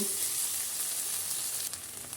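Onions and ginger-garlic paste sizzle steadily in a pan for a chicken curry, a dense close frying hiss with faint stirring scrapes and no talking.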